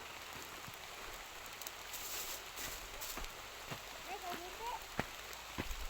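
Rain patters steadily across an open farm field, a soft continuous hiss with scattered sharper drops striking nearby, while people talk intermittently over it.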